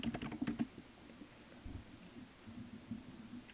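Typing on a computer keyboard, a quick burst of close keystrokes at the start, then sparse, quieter taps and soft rustling, with no talking.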